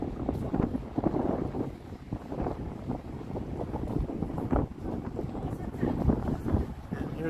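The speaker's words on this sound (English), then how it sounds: "here's that wind that we were hoping we would avoid" Wind gusting across the microphone on a downtown Toronto street during a Saturday night walk, a constant rough rumble with bursts, with people talking faintly underneath.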